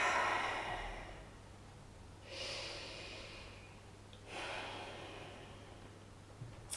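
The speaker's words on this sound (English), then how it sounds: "Just breathe as normal." A person in a yoga forward fold breathes quietly and slowly, with a long exhale at the start and two softer breaths after it, all under a faint steady room hum.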